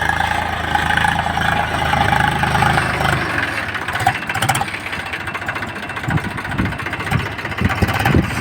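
A large tractor engine runs loudly and steadily in a field during castor sowing, with a continuous rumbling drone and rough low knocking throughout and no talking.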